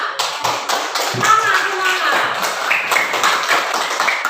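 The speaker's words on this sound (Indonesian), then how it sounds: "Tepuk tangan dulu semua." Young children clapping hands in a classroom lesson, a steady patter of many small claps with thumps, while a voice speaks over them.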